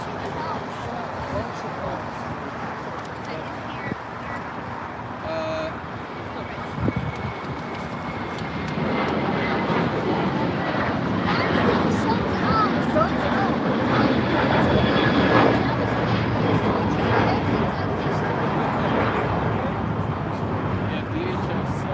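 A Delta jet airliner takes off at LAX, its engine roar building into a broad sustained rumble that grows louder midway, with people talking over it throughout.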